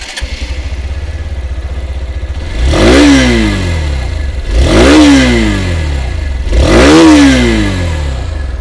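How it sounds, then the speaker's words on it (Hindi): A motorcycle exhaust idles with a steady low burble, then three strong throttle revs rise and fall at roughly two-second intervals, loud and close with no voices. "चलिए इसकी जो एग्जॉस्ट साउंड है वो भी मैं आप लोगों को सुना दूँ।"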